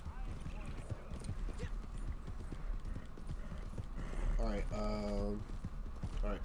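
Horse hooves clip-clopping in a video game with a western setting, a quick steady run of close hoofbeats with a whinny partway through, heard under someone talking.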